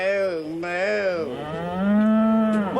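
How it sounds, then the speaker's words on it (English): A cow in a field moos loudly and close, a long drawn-out lowing call whose pitch rises and falls across the whole stretch, with no talk. "it was a cow that went moo, Bungle."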